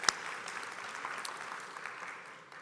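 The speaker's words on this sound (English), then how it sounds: "We should clap hands for ourselves for having celebrated International Women's" Audience applause at an International Women's Day forum, a steady wash of many hands clapping at moderate level throughout, with a sharp single clap near the start and no talking.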